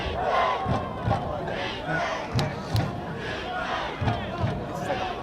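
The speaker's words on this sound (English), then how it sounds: "Handbell crowd getting animated over there as Red Devils line up for a 3rd down attempt" Football crowd at a district championship game, with Red Devils fans getting animated before a 3rd down attempt: a steady, dense roar of cheering and shouting, swelling in repeated surges and punctuated by a few sharp thumps.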